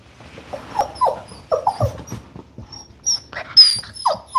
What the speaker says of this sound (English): they will whine and cry for sometimes up to 2 weeks